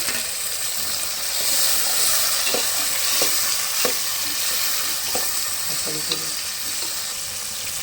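Chopped tomatoes fry in a pan of dried anchovy and cowpea curry, a strong continuous sizzle with stirring clicks and scrapes, close and steady, no voices.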